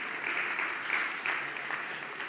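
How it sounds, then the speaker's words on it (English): A church congregation claps together during a sermon, an even wash of applause from many hands that holds steady at a moderate distance for the whole stretch. "Let's clap."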